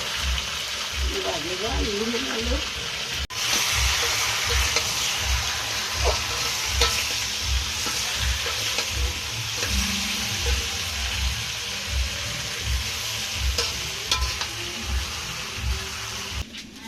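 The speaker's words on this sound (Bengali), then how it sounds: "তো এই পাশে আবার কুমড়া পাতার বড়া বাঁচতেছে।" Pumpkin leaf fritters fry in hot oil in a home kitchen, giving a steady sizzle with stirring and clinks, while water runs briefly and a voice talks over part of it.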